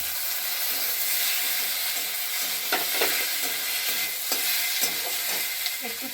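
Chopped tomatoes hit a hot pan and fry with a steady, close sizzle, joined by the scrape and clatter of stirring through the spice base of an egg curry with sour curd.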